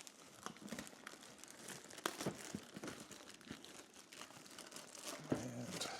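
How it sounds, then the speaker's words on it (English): Thin cellophane plastic wrap crinkles and tears as it is peeled off the box of a Deadpool MMS746 1/6 scale figure. Close, steady rustling and crackling runs throughout, with a few sharper crunches. "take off the cellophane, the plastic"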